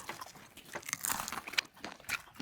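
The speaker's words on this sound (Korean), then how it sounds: "빠삭빠삭. 치킨 진짜 너무 맛있어." Crunchy fried chicken chewed close to the mic, a quick run of crisp, crackly bites and munches in an uneven rhythm, fairly loud and with no talk.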